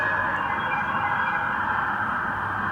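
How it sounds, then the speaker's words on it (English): A steady, loud wash of Bangkok city noise with a sustained wailing of sirens running through it, heard from a 20-something-floor high-rise above the streets, with no talk. "there's a lot of sirens going on right now"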